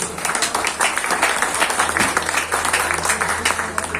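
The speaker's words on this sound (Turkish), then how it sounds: "bu alkışlara, candan gelen alkışlara bir karşılık vermen lazım" Lively audience applause at a teachers' gathering, dense rhythmic clapping that stays loud and close throughout, with a steady low hum underneath.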